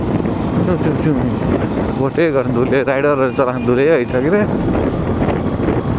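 Gusty wind rumbles steadily across an open outdoor spot, with several people chatting loudly over it the whole time.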